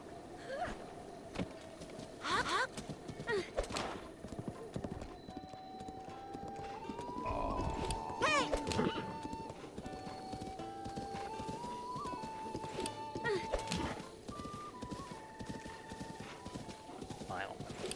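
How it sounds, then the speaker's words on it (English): Horse hooves clip-clop steadily in the video game Breath of the Wild, with occasional whinnies, music and game sounds, and a voice talking over parts of it. "Horse."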